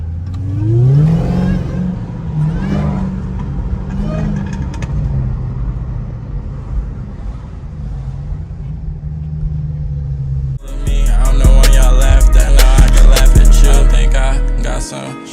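A Dodge Hellcat drives through a wealthy neighborhood, its engine revving with a deep rising growl before settling into a steady rumble. Loud music then takes over the rest of the sound.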